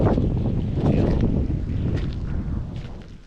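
Strong wind gusts across an open tomato field, a steady low roar with buffeting rumble against the microphone, loud and close, with no voices.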